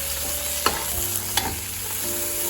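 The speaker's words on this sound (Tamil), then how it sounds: "அதோட புதினா இதை கொஞ்சம் நல்லிலேயும் போட்டு போட்டுட்டு ஒரு நிமிஷம் மிக்ஸ் பண்ணுங்க" Mint being stirred into frying chicken biryani in a pan: a steady loud sizzle with a couple of distinct spoon scrapes and knocks against the pan, close up, no voices.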